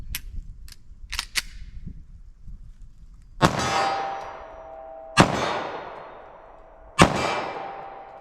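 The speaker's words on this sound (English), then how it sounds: "Let me fire a few shots and see what this looks like." Three loud 9mm pistol shots fired at a target 25 yards away, evenly spaced about two seconds apart, each a sharp crack with a long ringing decay, preceded by a few small clicks of handling.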